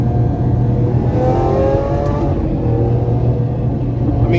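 A 2012 Lamborghini Aventador LP-700's engine and exhaust roar loudly as the car accelerates, a deep, sustained growl with rising tones heard from inside the cabin.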